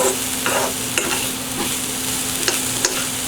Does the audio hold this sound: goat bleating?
no